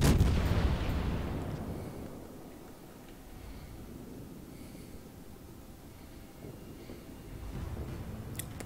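Heavy booming salvo of warship main guns in World of Warships, fired at the Azuma, with a loud blast at the start fading into a low rumbling roar and distant thuds.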